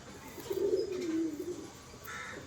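Pigeons kept in a loft give a low, throaty coo that swells and falls in one drawn-out phrase, close and clear over a steady background hiss, followed by a fainter higher rustle near the end.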